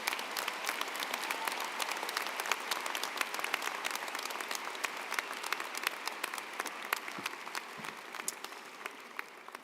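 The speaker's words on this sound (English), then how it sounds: "Graduates, we applaud you, we see you, we celebrate you." Applause for graduates at the Augustana College commencement, a sustained crowd clapping that carries evenly for nearly ten seconds, dense and moderately loud with many individual hand claps standing out.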